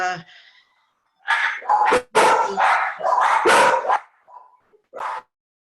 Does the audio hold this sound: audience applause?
no